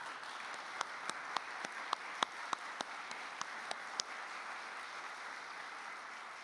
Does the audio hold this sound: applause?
yes